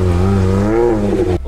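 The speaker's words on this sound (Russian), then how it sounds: "Ребята, и это атмосферник так у нас едет." Naturally aspirated Lada Niva engine on a hard off-road course revving loudly up close, a steady rising drone that climbs in pitch and then cuts off abruptly.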